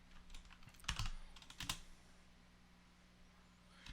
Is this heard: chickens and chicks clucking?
no